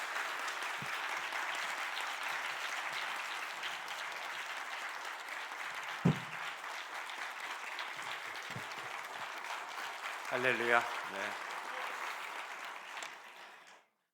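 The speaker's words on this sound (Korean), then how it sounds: "우리 하나님께 감사와 영광의 박수를 올려드리도록 하겠습니다" A church congregation applauds continuously, a steady wash of clapping that fills the space and fades out at the end, with a brief spoken exclamation and a short reply heard over it.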